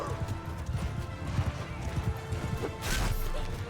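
Horse hooves from the Mount & Blade II Bannerlord video game beat a quick, steady clip-clop through a battle soundscape, with a brief crash-like burst near the end.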